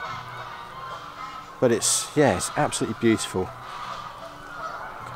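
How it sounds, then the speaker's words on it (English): Geese honk in a short cluster of loud calls in an autumn woodland, several overlapping honks over about two seconds, while a person speaks nearby. "I'm sure you can hear the geese are still calling over there in the background."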